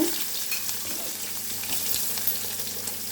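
Onion added to hot oil with mustard seeds, urad dal and cumin gives a steady, close frying hiss with a few faint pops.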